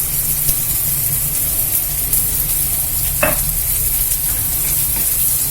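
Whole dried red chillies and vegetables frying in a pan, a loud continuous close sizzle with occasional spoon scrapes and a brief clack against the pan, no talk.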